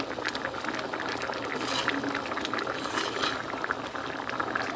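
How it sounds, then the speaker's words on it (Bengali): Steady bubbling of a pot of split chickpea lentils (chana dal) boiling, a continuous simmering gurgle close by with no voices. "এটা কিছুক্ষণ ফোটাবো আর ছোলার ডাল তো বেশি ফোটালে ঘন হয়ে যাবে"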